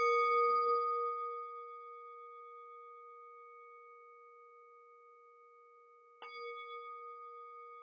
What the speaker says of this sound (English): So I'm going to ring the bell in a moment